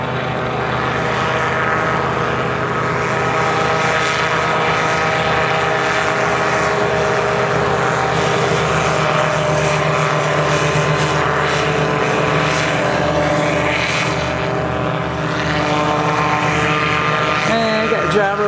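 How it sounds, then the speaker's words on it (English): Gyroplanes fly overhead at Wrens, Georgia, their propeller engines a steady, loud, droning buzz that holds for the whole stretch with little change in level. "Gyro planes in the air everywhere."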